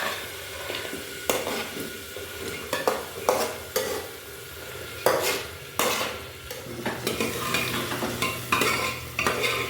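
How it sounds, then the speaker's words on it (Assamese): Vegetables seasoned with salt and turmeric are stirred and fried in oil in a pan: a steady sizzle broken by repeated scraping strokes of a utensil against the pan, fairly close. "সবজিখিনি দি এনেদৰে ভালদৰে লৰাই থাকিব মই দেখুৱাৰ ধৰণে অলপ সময় ভাজি ল'ব"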